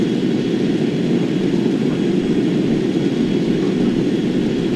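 A B-17 bomber in the War Thunder combat game drones with heavy piston engines and propellers, a loud, steady, unbroken roar that holds constant throughout with no speech.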